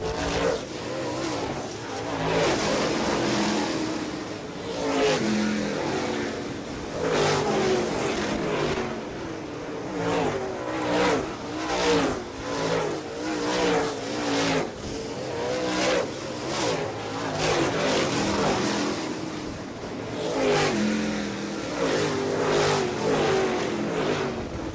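Modified race cars roar around a track at a Modified Mafia Tour race, engines surging and fading in repeated waves as the pack passes, loud and continuous with occasional tire squeal.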